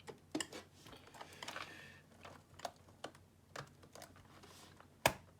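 Sharp plastic clicks and snaps come from a laptop keyboard on an Asus A54 as its retaining clips are released, scattered irregularly and close, with one louder snap near the end.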